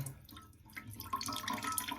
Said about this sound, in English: Still got water coming out of it.